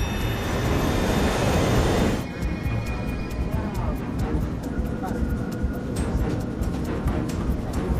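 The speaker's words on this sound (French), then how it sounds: "L'avion se lance sur la piste dans sa course d'envol." Loud roaring rush of an airliner's jet engines at full power on its takeoff roll in very cold weather, steady and broadband, easing slightly after a couple of seconds into a continuous rumbling roll with faint voices.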